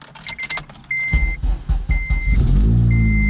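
Turbocharged Honda Civic, unused for a month or two, idling and revving up from inside the cabin, with a repeating high indicator chime, clunks and rustles; the engine swells into a loud steady drone near the end.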